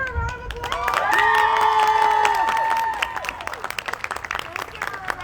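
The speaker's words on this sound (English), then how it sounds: "let's give her a round of applause" A crowd at a rally for Breonna Taylor claps and cheers loudly, with whoops and raised voices rising in the middle before settling into scattered clapping.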